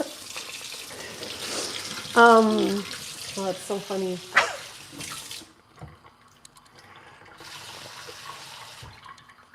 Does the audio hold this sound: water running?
yes